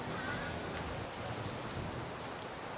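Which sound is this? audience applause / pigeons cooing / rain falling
rain falling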